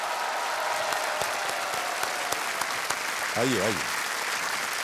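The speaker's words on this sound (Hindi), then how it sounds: "तालियां जारी रखिएगा।" Sustained studio audience applause at a KBC Hindi quiz show taping, steady dense clapping throughout, with a host briefly speaking over it.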